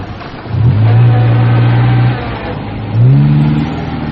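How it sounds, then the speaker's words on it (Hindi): A car engine revs hard as a tyre sinks in soft sand, with two loud sustained surges of revving separated by a brief drop to idle, close and dominant. "धीमे धीमे धीमी होती गई और फिर नरम रेत में टायर धंस गया।"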